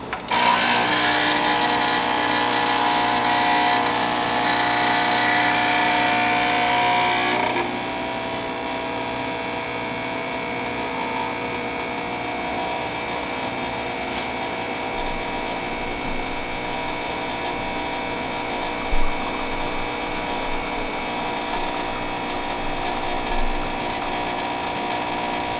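Quickmill espresso machine pulling a shot, a loud buzzing pump drone for about seven seconds that then settles into a quieter, steady mechanical hum, close up with no talking.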